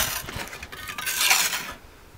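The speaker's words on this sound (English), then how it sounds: "So it's just removing all the ashes from the time before." Old ashes scraped and shovelled out of a wood-fired oven, a brief gritty rasp and shuffle with light metallic scraping, close and alone.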